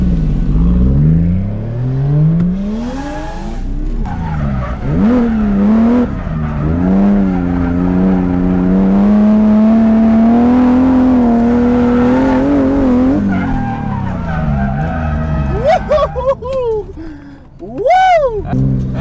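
A BMW E30 drifts on a track, its engine revving up and down in long sweeping pitch changes while the tires squeal, loud and close, with sharp bursts near the end.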